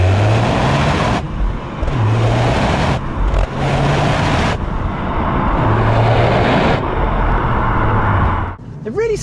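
Inside a 2021 Toyota GR Yaris on the road, its 3-cylinder engine drones loudly and rises and falls in pitch through repeated acceleration pulls, with a person talking over the steady engine noise.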